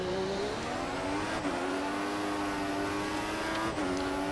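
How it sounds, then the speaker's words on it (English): A race car in the F1 2014 video game on the Valencia street circuit, its engine whining steadily with a sustained high tyre squeal over it and a couple of brief gear-shift dips, no talk. "It's a bit of a tyre squeal."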